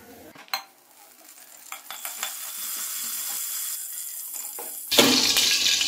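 Oil crackles and sizzles softly in a pan with garlic, a couple of clacks of a utensil, then a louder burst of frying hiss near the end.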